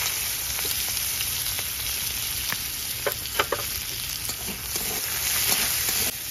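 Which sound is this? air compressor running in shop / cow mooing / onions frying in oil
onions frying in oil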